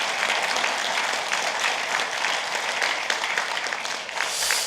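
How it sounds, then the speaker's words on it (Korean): An auditorium audience at a 2013 forum discussion applauds: a dense, continuous wash of clapping that holds steady for several seconds and tapers at the end. "박수를 한번 주시죠."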